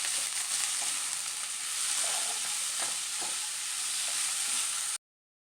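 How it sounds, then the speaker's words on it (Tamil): Vegetables and shredded cabbage for spring rolls sauté in a hot pan, a steady close sizzle with faint stirring scrapes throughout, then abrupt silence at the end. "இதையும் சேர்த்து நல்லா வதக்கிக்கலாம்."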